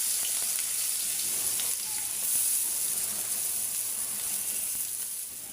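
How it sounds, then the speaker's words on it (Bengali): Onions and green chilies frying in reused hot oil in a pan, giving a dense, continuous hiss-like sizzle that stays fairly even and close throughout, easing off slightly at the end, with no talk. "একই তেলে আমি পেঁয়াজ কাঁচামরিচ আগে দিয়ে দিলাম"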